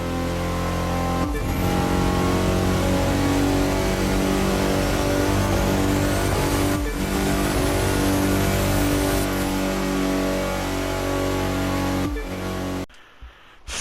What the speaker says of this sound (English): I was able to test out the car's true top speed with nitrous.